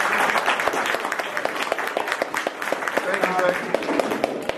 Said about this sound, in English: Let's have a nice hand for Becky.